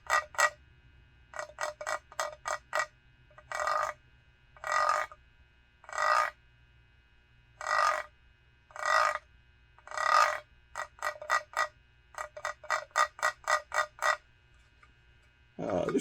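Deer grunt call made of walnut and darker, older-style Coca-Cola material, blown in a series of short, close, rhythmic grunts and clustered bursts with brief gaps, alone over a quiet low hum.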